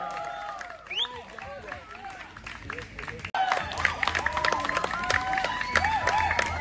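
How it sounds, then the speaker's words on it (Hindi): Audience applause at an evening qawwali gathering in Karjat swells into a steady patter of many hands, mixed with chirping whistles and crowd murmur, growing louder partway through. "जोरदार तालियों से स्वागत करते हैं."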